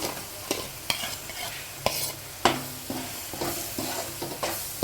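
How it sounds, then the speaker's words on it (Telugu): A spoon clanks and scrapes repeatedly in a pan of fish curry as masala spice is stirred in, irregular knocks over a constant frying sizzle, close and alone without talk. "ఇక చూడండి ఇప్పుడు మసాలా వేస్తున్నాను"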